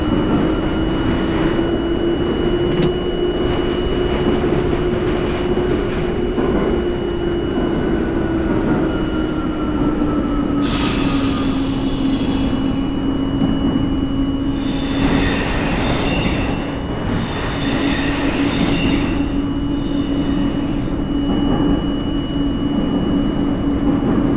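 An NYC subway A train leaves Shepherd Avenue in the OpenBVE simulator game, rising motor whine over a constant loud rail rumble, with hissing bursts midway and later, no voices.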